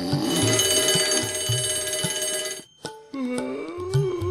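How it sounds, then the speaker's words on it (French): An alarm clock rings in loud, rapid repeating bursts, breaks off briefly, then starts up again, with musical tones running underneath. "Il se levait toujours au rythme du réveil"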